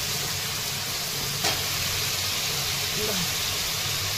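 Pumpkin frying in hot oil with garlic, cumin, mustard seeds and curry leaves for a Marathi pumpkin sabzi, a steady soft sizzle and hiss continuing throughout with little change.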